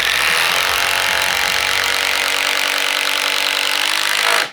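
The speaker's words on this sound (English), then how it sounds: "now we're just going straight up to a 5-inch Spax." An impact driver sinks a 5-inch Spax screw into wood in one loud, unbroken, buzzing run of about four and a half seconds, close by, then cuts off abruptly.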